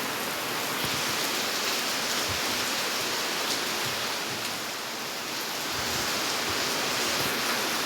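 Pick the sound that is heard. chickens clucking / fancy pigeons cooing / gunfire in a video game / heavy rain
heavy rain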